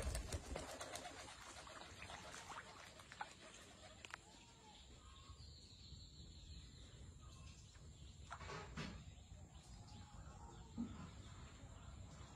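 A young pigeon is let go for a test flight, with pigeon cooing and faint bird noises over steady outdoor background hiss and a few brief louder rustles.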